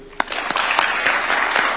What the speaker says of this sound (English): And a clap would be good.